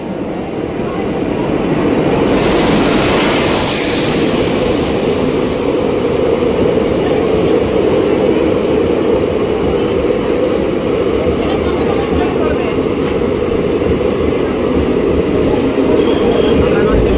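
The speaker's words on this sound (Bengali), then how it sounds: "ট্রেন আসছে।" A loud train arriving at a station rumbles steadily nearby, a continuous heavy roar of wheels and rails with a brief high squeal early on.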